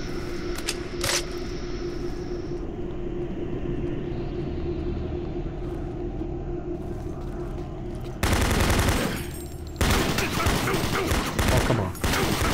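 Automatic weapon in a video game fires in a continuous rattling burst that keeps going for several seconds, then a louder, harsher volley breaks out with brief gaps between bursts.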